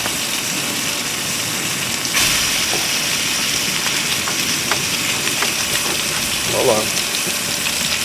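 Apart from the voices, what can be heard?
lamb chops sizzling in a cast iron skillet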